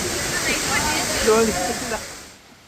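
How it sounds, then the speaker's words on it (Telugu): The Taraabu waterfall roars with a steady broadband rush of falling water, loud and continuous, with faint voices briefly under it before the level drops away near the end. "ఈ వాటర్ ఫాల్స్ చూడండి ఎంత అద్భుతంగా ఉందో"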